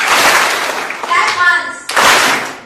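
A live seminar audience claps together on cue in a single dense burst, a brief voice sounds in the pause, then a second sharp group clap follows, close and loud.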